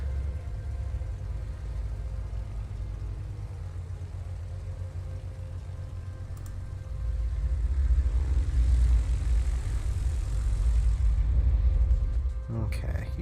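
Propeller aircraft engines from planes in the naval combat game World of Warships give a steady, low droning rumble that swells louder about halfway through and holds there.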